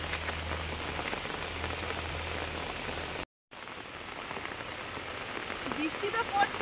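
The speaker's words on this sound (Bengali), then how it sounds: "বৃষ্টি তো পড়ছে, কখন থেকে শুরু হয়েছে জানি না।" Steady heavy rain falling in a rural village by a pond, a continuous close patter on surfaces with a brief cutout midway and no voices.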